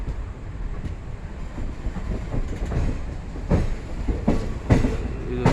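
An unreserved express train on the Konkan railway route between Mangalore and Goa rolls steadily with a continuous rumble and rhythmic wheel clatter, heard from on board with wind noise and a few sharper knocks.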